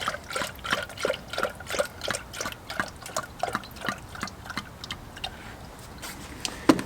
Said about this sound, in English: So what you do is you pour it in.